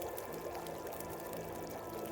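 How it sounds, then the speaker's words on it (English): Water being drunk in the survival video game The Long Dark, a steady liquid pouring and gulping wash that runs evenly for about two seconds with no talk. "Let's drink some water."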